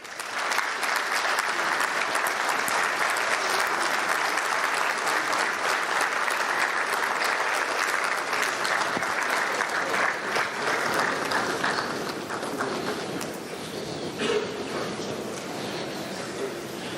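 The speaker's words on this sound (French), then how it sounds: "Sous vos applaudissements, messieurs, dames." An audience at the FANAF 2019 opening ceremony applauds in a dense, continuous wash of clapping that holds steady for about twelve seconds before thinning and tapering off.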